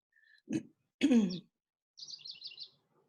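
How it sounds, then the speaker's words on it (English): A bird sings outside in short phrases: two soft, low calls and then a quick run of high chirps, faint and heard alone without talk. "Somebody has a beautiful bird outside."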